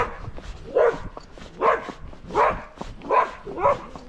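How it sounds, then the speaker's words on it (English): A dog barking repeatedly while chasing a ridden horse along a fence, five evenly spaced, fairly close barks with the steady rhythm of movement in between. "So good with the dog chasing us down the fence."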